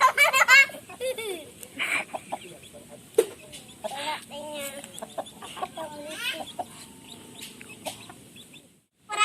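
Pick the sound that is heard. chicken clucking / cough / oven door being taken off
chicken clucking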